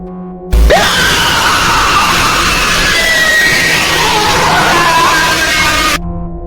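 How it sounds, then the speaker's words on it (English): Loud, harsh distorted screaming from a Roblox horror game blares continuously for about five seconds, a noisy wall of shrill, warbling cries that starts and stops abruptly. "You will also hear loud, distorted screams that are very disturbing"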